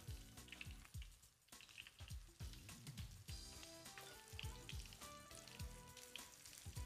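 Sausage croquettes made with Tuscan sausage, coated in breadcrumbs, frying in a pan of oil, a dense continuous sizzle with crackles and bubbling pops, fairly close and steady throughout.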